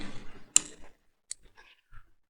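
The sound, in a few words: computer mouse clicking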